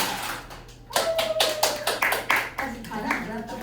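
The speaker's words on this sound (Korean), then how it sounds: "박수 한번 쳐야지" A small group claps hands in a math classroom, a run of distinct slaps that starts abruptly and continues in an uneven rhythm, with a voice speaking over it.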